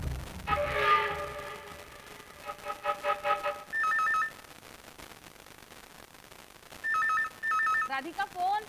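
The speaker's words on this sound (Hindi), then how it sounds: "फोन उठा ले" A telephone rings indoors in a crime drama scene, two-tone electronic trills in short repeated bursts, fairly loud, with background music and a voice heard between the rings.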